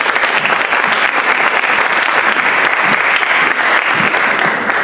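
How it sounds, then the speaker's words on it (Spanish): A conference audience gives loud, sustained applause to welcome a speaker at an event on consumer protection in e-commerce in Colombia, with dense clapping continuing steadily throughout. "Recibámoslo con un fuerte aplauso."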